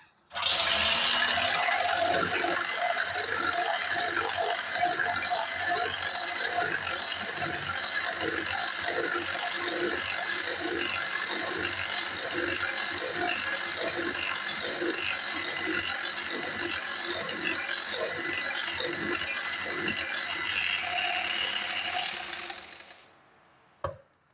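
An electric beater whips egg whites in a bowl for cake batter, giving a steady rattling whir with rhythmic clicking that runs close and constant before it stops abruptly.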